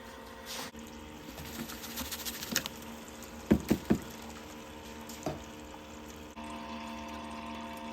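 A water pump pushes a steady flow over a gold sluice through a speed controller, giving a constant low hum and trickle, broken by a few sharp knocks and a brief cluster of clicks near the middle.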